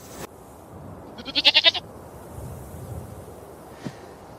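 A goat bleats once near the middle of the clip, a short wavering cry of several quick pulses, fairly close, over steady wind noise outdoors with a light knock at the start.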